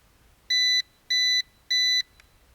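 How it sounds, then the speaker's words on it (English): Three evenly spaced electronic beeps from a Ruko F11 Pro 2 drone connecting to its remote, each about a third of a second long, clear and close with silence between them. "it's gonna beep for a couple of minutes until the remote is talking to the drone"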